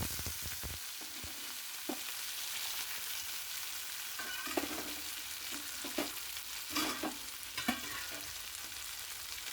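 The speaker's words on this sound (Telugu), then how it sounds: "మంచిగా వేయించుకోవాలి నూనెలో అయితే." Cluster beans sizzle steadily in hot oil, a close, continuous frying hiss broken by occasional clicks and scrapes of a spoon stirring the pan, with no talking.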